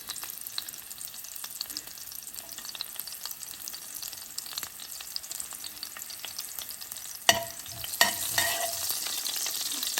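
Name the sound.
ajwain seeds and green chili peppers frying in hot oil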